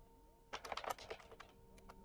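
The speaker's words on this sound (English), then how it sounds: "So you'll hear the keyboard sound throughout the tutorial." A computer keyboard clatters under quick, irregular keystrokes, a short flurry of close, fairly soft clicks that thins out to a few scattered taps.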